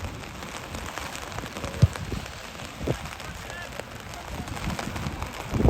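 Steady rain patters on the ground during a cold, wet, windy night-time amateur football match in Stoneham, a continuous hiss with occasional louder knocks and bumps from the pitch.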